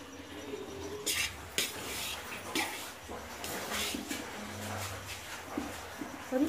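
Mung bean flour being stirred and roasted in a pan with a spatula, a kilo of it: repeated scraping and clinking strokes against the metal over a faint background sizzle, close and irregular.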